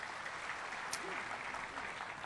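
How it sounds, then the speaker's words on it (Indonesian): Church congregation applauding during a sermon, a steady, fairly quiet wash of clapping that runs throughout, with a faint voice briefly audible in the middle. "Berikan tepuk tangan yuk buat Tuhan Yesus."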